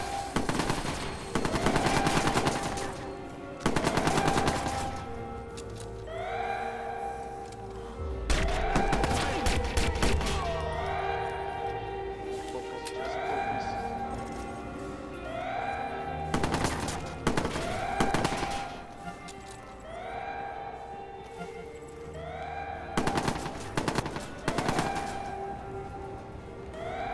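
Repeated bursts of automatic gunfire and single shots in the video game Watch Dogs, loud and close, coming in clusters with short pauses between volleys over a steady game background.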